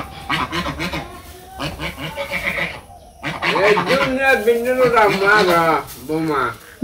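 Ducks quack repeatedly in bursts, nasal calls overlapping close by, with a short pause midway before a denser, louder stretch of quacking.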